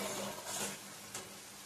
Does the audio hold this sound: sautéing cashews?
yes